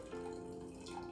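Cold espresso poured over ice for an iced chocolate espresso, a soft steady liquid trickle with a faint tonal ring as it fills, close and quiet with no talk.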